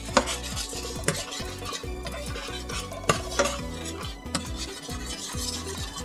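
Butter and sugar melt in a pan for a pineapple upside-down cake. A utensil stirs and scrapes steadily against the cookware, with a few sharper clinks and a soft sizzle underneath. No one speaks.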